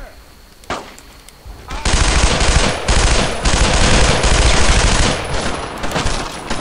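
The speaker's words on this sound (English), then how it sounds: "Incoming fire" Sustained machine gun fire crackles loud and close in the World War II shooter Brothers in Arms on the Purple Heart Lane mission, starting after a few scattered shots and continuing as a dense, unbroken burst.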